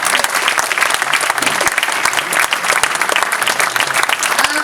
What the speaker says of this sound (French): je vous demande d'applaudir chaleureusement l'engagement de Corinne pour notre ville.